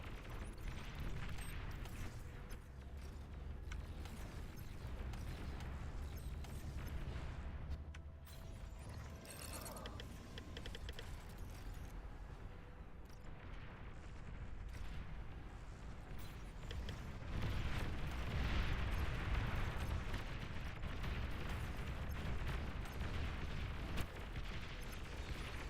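A commander unit explodes during a Beyond All Reason real-time strategy battle: a heavy boom rises out of a constant loud wash of mechanical clanking and artillery-like rumble, with no talk over it.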